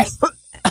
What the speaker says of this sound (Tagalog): bakit bigla ka yatang umuubo